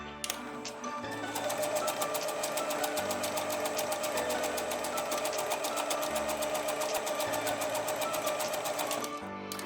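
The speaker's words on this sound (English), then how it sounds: "Turn on the sewing machine. Choose buttonhole stitch." A FEIYUE FYe390 sewing machine stitches a buttonhole, its needle hammering in a fast, even, close rhythm for several seconds before stopping.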